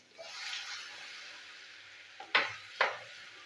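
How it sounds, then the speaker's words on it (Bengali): Garlic frying gently over low heat in a pan, a soft continuous sizzle with two short scraping stirs near the end, close and moderately quiet, no voices. "তা রসুনটা একটু ভাজা ভাজা হোক"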